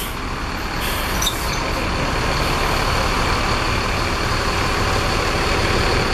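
A Mercedes-Benz bus idles at the Brasília bus station, its loud, steady diesel rumble close by and unbroken, with a short hiss of air near the start.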